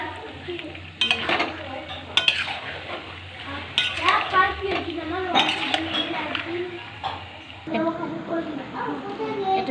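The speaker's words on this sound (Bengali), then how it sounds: "এই সিদ্ধ করা আলুগুলো এবার এই যে তেল ছেড়ে দিয়েছে এর মধ্যে দিয়ে দেবো এরপর একটু নাড়াচাড়া নাড়াচাড়া করছি" Boiled potatoes tossed and stirred in hot oil in a pan for vegetarian aloo dum, with steady frying sizzle, scraping and clinking of a utensil against the pan, and a person talking over it throughout.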